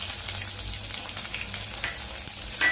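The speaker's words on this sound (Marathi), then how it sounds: "आता तेल गरम झालेलं आहे. जिरे घालूया. त्याच्यातच लसूण टेचून घेतलाय तो घालूया." Cumin and crushed garlic frying in hot oil, a dense, steady close sizzle and crackle that holds throughout.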